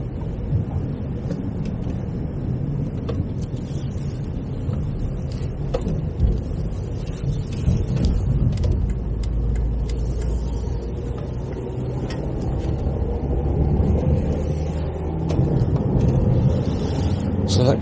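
A car driving on a foggy road between Densole and Newington, heard from inside: a steady low engine and tyre rumble throughout, with scattered small rattles and clicks, close and continuous.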